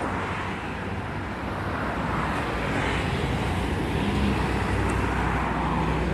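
A Jetbus 2 SJD coach, fresh out of its depot garage in Maus, Pati, passes by on a road, giving a steady broadband roar of engine, tyres and wind that swells slightly as it goes.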